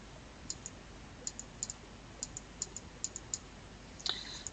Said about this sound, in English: Just right clicking.